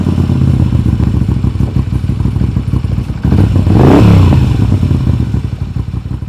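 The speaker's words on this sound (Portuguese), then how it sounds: "Rodando a chave, vemos a dança ritual dos ponteiros e quando o motor ganha vida" A Moto Guzzi V7 Special motorcycle engine fires up partway through, swelling into a loud revving burst before settling into a steady running rumble, close by and heard alone.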